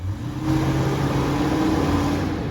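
A car engine held at wide open throttle during an automatic transmission line pressure test, a loud, steady, sustained roar with a low droning hum that builds early and stays even throughout.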